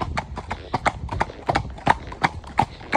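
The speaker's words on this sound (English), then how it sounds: "Happily trots off in front. He's a very, very smart horse." A clean-legged, fully shod horse trotting out on a hack, its hooves clip-clopping in a brisk, even rhythm close by.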